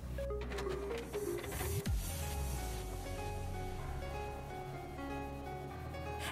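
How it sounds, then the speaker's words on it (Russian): A Canon Cake MG5600 food printer prints an edible picture, giving off a continuous mechanical whirr with tonal motor whines and shifting carriage movements, close and fairly loud, with no talking. "с любого устройства, с ноутбука, с компьютера отправляем нашу картинку на печать, выбрав соответствующий принтер"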